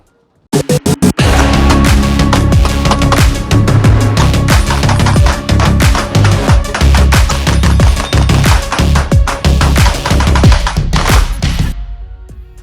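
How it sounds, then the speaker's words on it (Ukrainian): Rapid practical-shooting gunfire from a carbine and a pistol, a loud dense string of sharp shots firing in quick succession for about eleven seconds before stopping. "А зараз пропоную перейти до практичної стрільби"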